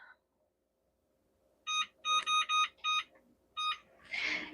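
A kitchen timer set for 30 minutes beeps during breakfast prep, sounding a rapid series of bright electronic beeps in short bursts, fairly loud and close, followed by a brief burst of noise.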